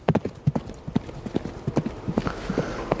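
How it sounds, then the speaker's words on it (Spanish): Horse hooves clip-clopping in a quick, rhythmic gallop-like pattern, crisp and close, sounding alone in a clear run of sharp knocks. "Es un sonido que asociaríamos al galope o a los pasos de un caballo."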